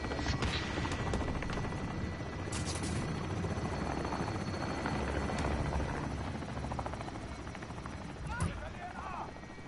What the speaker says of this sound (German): was ist das jetzt gewesen? Helikopter.